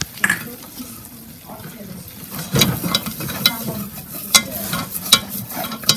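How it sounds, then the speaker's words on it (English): Melted butter and flour for a béchamel sauce stirred in a pan, a low bubbling sizzle broken by irregular scraping and tapping strokes of the utensil, close and moderately loud. "Add your flour after your butter melts. Stir it constantly to avoid having any lumps."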